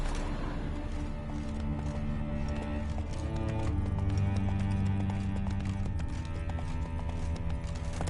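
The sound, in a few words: horse Roach hooves clip-clopping, video game The Witcher 3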